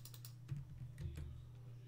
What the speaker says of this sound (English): I'm slow at typing in Korean anyway.